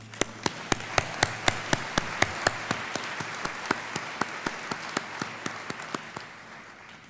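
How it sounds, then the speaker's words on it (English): Rhythmic hand claps at a college convocation ring out as sharp, evenly spaced beats, about three per second and steady throughout, over a soft room background. "Gotta give y'all a hand clap for that."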